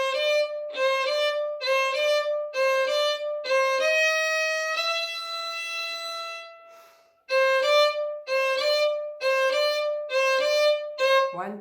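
Violin playing a melody, with short repeated bowed notes, a sustained held note and a brief pause, then more short repeated notes, clear and close with no talking.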